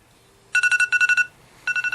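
A phone rings in a workshop with a bright electronic warble in quick pulsing bursts, two back-to-back trills then a third starting after a short gap, clear and close over a quiet background.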